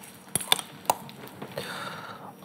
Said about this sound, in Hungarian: és az egészet jól összeforgatjuk.